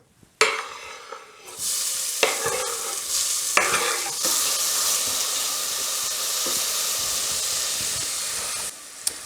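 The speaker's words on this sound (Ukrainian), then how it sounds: "Та не чекаючи, поки олія нагріється, відправляю в неї цибулю." Chopped onion frying in oil in a pan for mushroom risotto, a sudden sharp sizzle as it hits the oil, then steady loud hissing with stirring scrapes.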